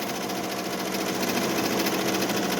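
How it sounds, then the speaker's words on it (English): Embroidery machine stitching the end caps of a puff design, a steady fast rhythmic mechanical chatter that runs continuously at moderate level with no pauses. "it's embroidering the end caps of the puff"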